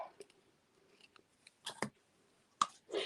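Scissors snipping off craft ribbon for a handmade barn fold card, a few quiet crisp snips and clicks close by with short pauses between them.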